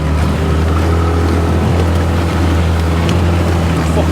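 An inflatable fast boat runs flat out on the open sea, its outboard engine a loud, steady drone mixed with rushing water and wind noise, continuous and close throughout.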